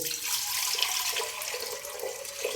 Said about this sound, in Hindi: और इसमें हमने कोई 4 गिलास पानी डाला है।